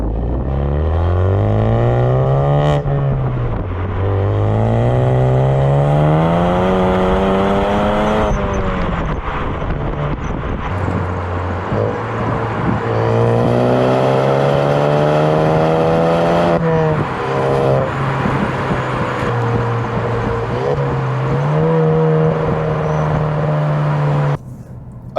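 A Ford Focus ST MK3 with its resonator deleted accelerates hard through several gears, the loud engine note climbing in pitch, dropping at each shift and climbing again, heard close up without talk.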